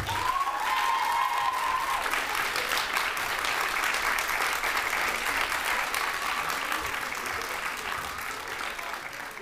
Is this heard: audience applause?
yes